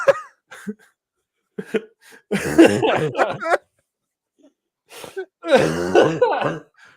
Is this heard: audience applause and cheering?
no